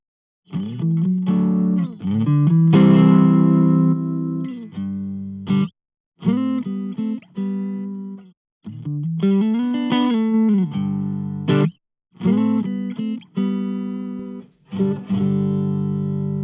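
An electric guitar through a Browne Amplification ATOM Nashville Overdrive pedal, with overdriven, distorted tone, plays chords and bends in bursts separated by short pauses, close and fairly loud, with no talking.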